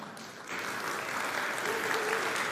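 An audience claps at a smartphone launch event, a burst of applause that swells after a brief pause and stays steady, fairly loud across the hall.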